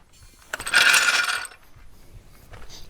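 Ratcheting clicks from a wrench tightening a bolt on a Honda Odyssey sliding door roller, a dense burst of close mechanical clicking lasting under a second, followed by fainter handling noise with no talk.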